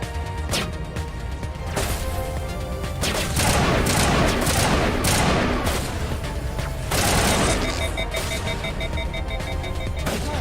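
Gunfire in Mass Effect Legendary Edition comes as dense, loud bursts of shots, with crashing impacts and mechanical clatter in repeated waves through the stretch and no talk over it.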